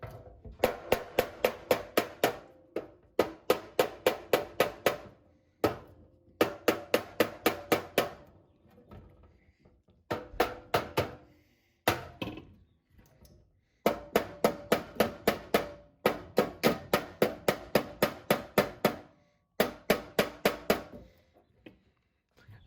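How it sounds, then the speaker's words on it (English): A hammer strikes clamped sheet metal for a 1934 Chevy hot rod visor in rapid bursts of blows separated by short pauses, each group sharp and ringing, close by with no talking. "I'll start doing some bashing with a hammer"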